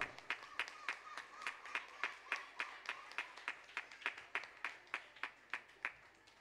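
An audience at a church kids' programme on the final day of a 2025 children's event claps in a steady, rhythmic beat, about twenty even claps in a row, faint and fairly distant.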